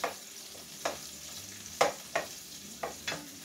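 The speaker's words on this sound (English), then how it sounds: "Now we want to saute these until the onions are translucent and the peppers soften up" Onions and peppers sauté in a pan as a spoon stirs them, giving a soft steady sizzle broken by several sharp scraping clicks at irregular moments, fairly quiet with no voices.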